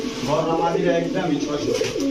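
Pigeons coo in low, rolling murmurs close by at a pigeon market, with people talking over them the whole time.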